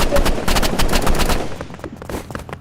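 Automatic gunfire in the Roblox shooter Rivals: a loud, dense stream of rapid shots that continues without a break, then thins into scattered bursts and fades toward the end.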